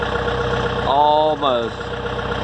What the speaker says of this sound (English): I'm gonna try to lift it. It's probably not gonna pick it up